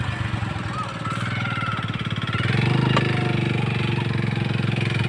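A motorcycle engine runs steadily beside a canal, a close, throbbing low putter that swells a little midway, with faint talk mixed in.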